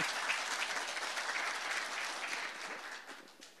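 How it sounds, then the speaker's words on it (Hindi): An audience at a televised Bhojpuri political event claps steadily and densely, a sustained burst of applause at moderate distance with no speech over it. "यानी वो ताली बजा के आशीर्वाद देता जाओ।"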